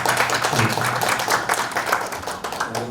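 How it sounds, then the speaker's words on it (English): A short burst of audience clapping welcomes a university Vice Chancellor at a signing ceremony, fairly loud and dense with some distinct individual claps standing out, and no talking heard. "please join me welcoming Professor Dr. Mak Nabil Makhtar with round of applause"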